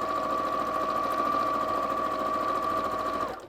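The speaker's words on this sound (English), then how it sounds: "So I'm going to sew those together now." A sewing machine stitches quilt pieces together with a steady, close, continuous whirring hum that runs unbroken before cutting off just before the end; no one speaks.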